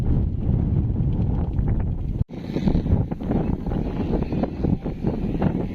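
Strong cold wind buffets the microphone at a hilltop in Dieppe, a loud continuous roar with one brief sharp dropout midway, no one speaking.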